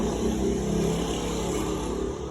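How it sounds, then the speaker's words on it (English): A motorcycle passes by outdoors, its engine a steady low drone that holds fairly close and then fades slightly at the end, with no voices over it. "Damn motorcycle just passed by."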